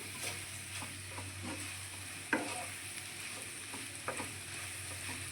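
Potato chip sabji being stirred together with masala in a pan, giving a steady soft sizzle with scattered scraping clicks of the spoon and two sharper knocks, close and alone.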